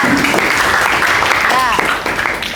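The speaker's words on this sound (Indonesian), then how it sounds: "Tepuk tangan dulu dong buat kelompok Hensa." A classroom audience claps for the Hensa group after their dance critique presentation, a steady burst of hand claps with a voice or two briefly audible over it, fading slightly near the end.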